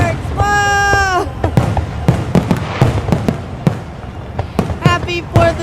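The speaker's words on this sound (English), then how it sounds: "Look at all the fireworks." A Fourth of July fireworks show, with repeated sharp booms and cracks going off in irregular succession, loud and fairly close, alongside excited voices and shouted exclamations.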